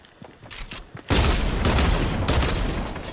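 Gunfire from another player in a Battlefield-style shooter game, a sudden loud burst of rapid shots and booms after a quieter second, continuing as a dense sustained fusillade close by.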